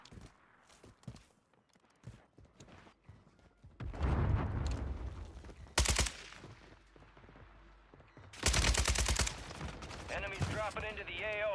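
AK-47 gunfire in Warzone 3 arrives in two loud automatic bursts between quieter stretches of in-game clatter, footsteps and faint background voices, with a warbling tone near the end.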